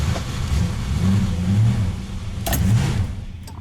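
A car engine idles and revs unevenly as the driver tries to get it into gear after a stall, a low rumbling drone that rises and falls with brief metallic clicks near the end, close and fairly loud.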